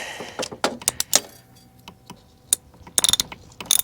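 Metallic clicks and ratcheting taps from tightening a bleed screw on the diesel fuel system of a 2004 GMC 3500 Duramax, a run of short sharp bursts close by, some bunched together, with quieter gaps between.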